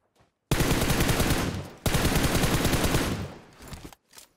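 Loud, sustained automatic gunfire in PUBG Mobile, two long rapid bursts separated by a brief break, close and dominant with a short shot trailing at the end.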